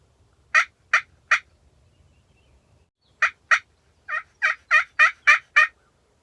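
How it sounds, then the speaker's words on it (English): A wild turkey in the Kentucky spring woods sounds off in loud, sharp bursts: a quick run of three calls, a pause, then a longer run of rhythmic calls, clear against a quiet background. "He gobbled, but I can't tell where he's at."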